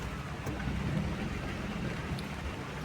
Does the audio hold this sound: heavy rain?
yes